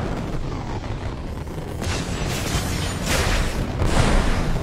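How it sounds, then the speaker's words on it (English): Artillery shells burst in Marvel's Avengers video game, a loud, continuous rumble of booming explosions that swells toward the end, heard with no talking. "Watch out. Their artillery's targeting you. Incoming."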